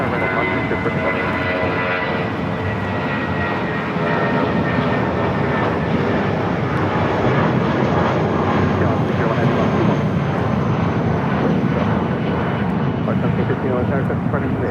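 An Airbus A320 airliner takes off at LAX with a loud, sustained roar of jet engines that holds steady and grows slightly stronger partway through. Radio chatter runs faintly underneath.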